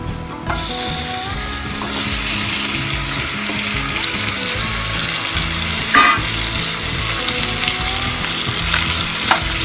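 Dried fish coated in turmeric sizzles steadily in hot oil, a loud continuous frying crackle with occasional stirring clinks and scrapes, no talking.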